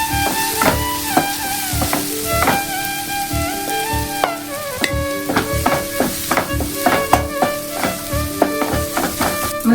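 Tomato masala with chili powder, black pepper and turmeric sizzling in a pan while a spoon stirs and scrapes steadily, with repeated clinks of utensil on metal over a continuous close frying hiss; no one speaks.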